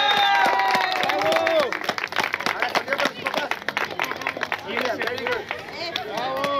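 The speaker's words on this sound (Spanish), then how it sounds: "un aplauso para el segundo lugar" Applause and cheering for a second-place team at a summer youth soccer league ceremony, lively clapping from a nearby crowd mixed with shouted cheers and an announcer's voice over it.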